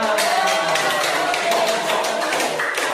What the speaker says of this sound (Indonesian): Saya berikan tepuk tangan